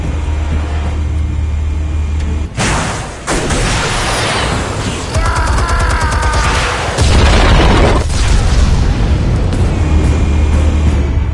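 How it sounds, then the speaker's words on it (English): Explosives detonate in a PS4 video game, with loud booming blasts and heavy rumbling debris filling most of the stretch. Dense low roar and crackle continue throughout, with no speech over it. "Explosives armed. Fire when ready."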